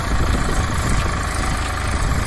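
Four-wheel-drive tractor engine running steadily on a farm, a loud, continuous low diesel rumble with a faint knocking texture and no talk.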